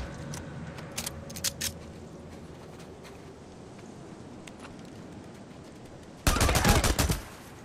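Gunfire in the snowy, blizzard-swept world of the Days Gone video game: a few faint scattered shots early on, then a loud, dense burst of rapid shots near the end.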